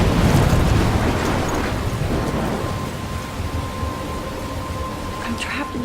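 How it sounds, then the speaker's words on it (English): Storm in the video game Life is Strange, a steady loud roar of heavy rain with rumbling thunder rolling underneath, continuous and close throughout. "I'm trapped in a storm."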